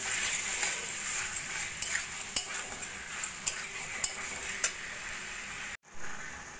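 Kachur loti (taro stolon) curry being stirred in a pan over a low flame, a steady soft sizzle carrying a series of sharp clicks and taps from the spoon against the pot, then a brief dropout near the end.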